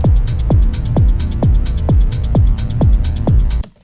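A loud, pulsing techno beat with a deep, growling synth sub-bass layer throbbing underneath steady kicks and bright hi-hats, cutting off abruptly at the end.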